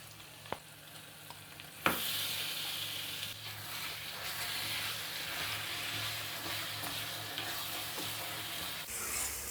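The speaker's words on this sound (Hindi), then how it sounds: "1 केजी हम बीफ का कीमा लेंगे और प्याज के अंदर शामिल कर देंगे।" Beef keema with onions and garlic ginger paste fries in a pan, a dense continuous sizzle swelling loud after a brief quieter start, with occasional stirring knocks, close and steady throughout.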